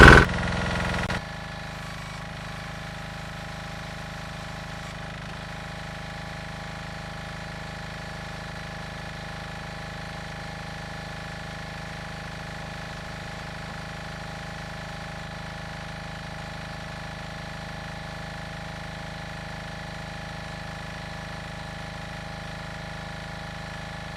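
A 168F small diesel engine on a log splitter idles with a steady, even drone, after a short louder burst at the start, running alone and unchanging throughout.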